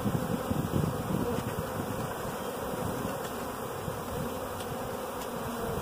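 A swarm of honey bees fills the air with a dense, continuous buzzing drone, steady and close, with no voices.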